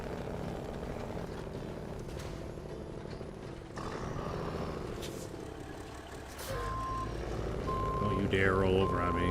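A Kenworth truck in the video game SnowRunner reverses with repeated evenly spaced electronic beeps over a low diesel engine drone and some mechanical noise, growing louder toward the end.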